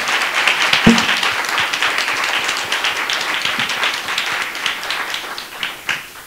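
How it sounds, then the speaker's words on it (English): An audience claps together in a quick round of applause after a talk, with a few louder individual claps standing out near the start and end of the steady patter. "just maybe a quick round of applause to thank you just for that opportunity"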